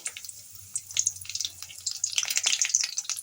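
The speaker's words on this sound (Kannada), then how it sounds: "ಇವಾಗ ಇಲ್ಲಿ ಎಣ್ಣೆ ಬಿಸಿ ಆಗ್ತಾ ಇದೆ. ಇದಕ್ಕೆ ನಾವಿವಾಗ ಹಸಿಮೆಣಸಿನಕಾಯಿ ಹಾಗೂ ಕರಿಬೇವನ್ನ ಸೇರಿಸ್ತಾ ಇದ್ದೀನಿ" Green chillies and curry leaves sizzle in hot oil, a faint crackling spatter with irregular pops growing denser toward the end.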